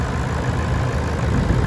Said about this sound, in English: That lovely V8 sound.